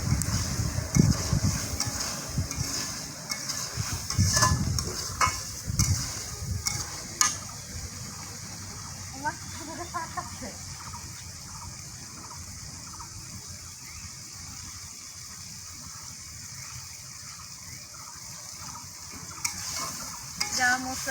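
Spice masala frying in oil in a pan in a village kitchen, stirred with a spoon, a low steady sizzle with louder scraping stirs in the first seconds, then quieter and continuous.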